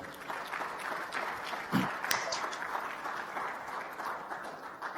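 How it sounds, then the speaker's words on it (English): A live audience at a youth town hall during an agricultural summit gives itself a round of applause, with moderately loud, steady clapping and a couple of sharper claps standing out. "Give yourselves a round of applause, everybody."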